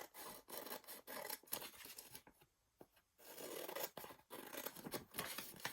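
Scissors snip and rub through an index card, a close series of dry, rasping cuts with brief pauses and a short quiet gap midway.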